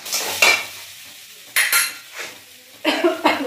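A spicy paste of ginger, garlic, chilli and tomato fries with potatoes in a pan for a pond crab curry. Bursts of sizzling come with a metal spatula scraping and clinking against the pan in a few separate strokes, and no one talks.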